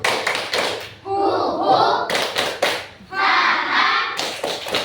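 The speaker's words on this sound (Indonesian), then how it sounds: "Tepuk tangan buat anak. Tepuk semangat baru." Schoolchildren in an Indonesian classroom clap together in a rhythmic patterned cheer, loud and close, in two bursts separated by a teacher speaking.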